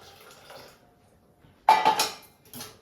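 Hot melted jaggery pours into rice batter in a pot and is stirred, with a loud wet swishing and a clatter against the pot after a quiet start.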